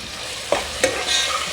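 Curry leaves and whole black peppercorns fry in a pan, giving two short sharp sizzle bursts over a steady low crackle of hot oil, close and fairly loud.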